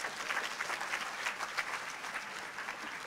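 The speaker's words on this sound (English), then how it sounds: "Can we give us all a round of applause?" Audience applause fills the room at a keynote event, steady dense clapping from a crowd that stays at an even, moderate level throughout and carries no voices.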